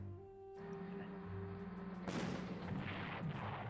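Artillery fire in the World War II strategy game Panzer Corps: a dull boom lands, then a louder, harsher blast rolls out over a low background hum.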